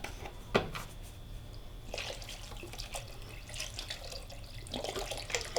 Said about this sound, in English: We're adding 6 cups of vegetable broth.